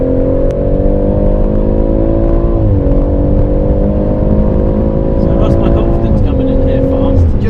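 A car at full throttle on the Goodwood track, a loud sustained engine drone from inside the cabin that rises in pitch and dips briefly at gear changes, with occasional speech over it.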